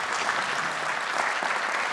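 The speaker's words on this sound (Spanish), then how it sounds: "Un fuerte aplauso, por favor, para el doctor" An audience applauds a visiting orthopedics and traumatology doctor at a medical talk, a dense, continuous clapping from a roomful of people that stays loud for the whole stretch without a break.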